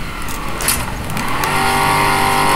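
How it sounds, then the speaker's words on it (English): A truck's upgraded engine revs hard in the racing video game FlatOut 2, a loud continuous drone with rising harmonics that climbs steadily in pitch and holds strong, with faint tire and crash noise mixed in. "My truck have upgraded engine, so it's much faster."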